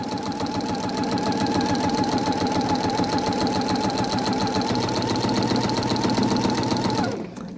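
A sewing machine fitted with a walking foot stitching around a quilt petal, a loud, close, steady rapid mechanical whir with rhythmic needle clatter that stops abruptly near the end.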